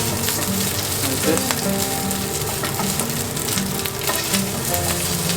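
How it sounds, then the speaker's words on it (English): Rice frying in hot oil in a wok as it is broken up and stirred, with a dense, steady sizzle and soft scraping, and a brief spoken phrase over it. "Now we can put the rice in, let the oil get hot. You want to break the rice."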